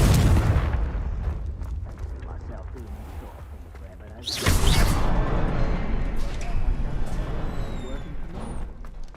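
A Confringo blasting spell from Hogwarts Legacy erupts as a sudden loud boom, followed by a sustained rumbling roar and debris under faint background voices.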